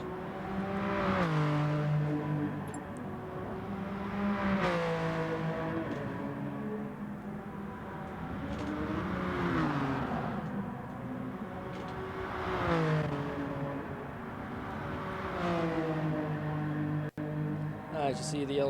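BMW VGT race cars lapping Mount Panorama in Gran Turismo Sport on medium-compound tyres, engines repeatedly revving up and easing off in smooth sweeping surges, heard beneath continuous race commentary.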